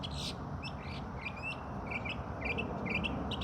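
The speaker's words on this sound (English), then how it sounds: "There's bird crazy activity out here today" Outdoor birds around a house, a busy mix of repeated chirps, tweets and quacking calls over a steady broadband background hiss, fairly near and continuous.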